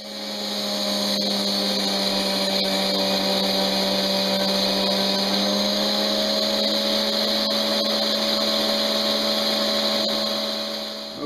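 A bench grinding wheel shapes a blacksmith-made horseshoe knife, a loud continuous high whine with a steady tonal hum held for about eleven seconds, close up and alone without speech.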